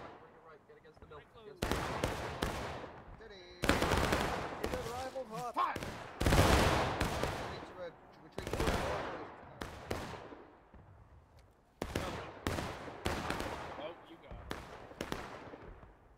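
Musket volleys ring out in the Civil War game War of Rights at a historical rules event, loud crackling rolls of many shots, each followed by a fading echo, repeated in ragged bursts with shouted commands in between.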